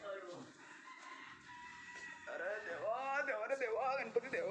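A village rooster crows close by in a drawn-out, wavering call over the second half, with a person talking at the start.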